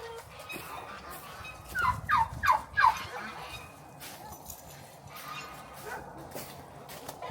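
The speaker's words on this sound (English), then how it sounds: "You can hear the turkeys." Turkeys gobble in a short burst of several calls on a farm at the end of the day. Dogs bark and other farm animals are heard faintly in the background.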